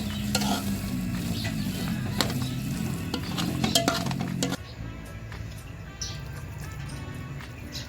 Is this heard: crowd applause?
no